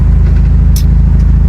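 A Hyundai Genesis Coupe engine drones low and steady from inside the moving car, loud and constant, with a faint click partway through.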